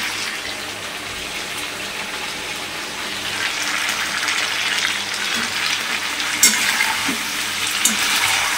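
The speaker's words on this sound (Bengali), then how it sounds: "আলুগুলো দিয়ে আলুগুলো একটু ভাজা ভাজা হয়ে যায়" Potatoes added to browned, spiced meat sizzle and fry in a home kitchen pan, a steady close hiss with occasional stirring scrapes and clinks near the end.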